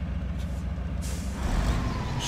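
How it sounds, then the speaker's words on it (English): A logging truck maneuvering in the off-road game Spintires gives a steady low diesel rumble, broken by short hissing bursts like air brakes releasing. "Position your truck properly."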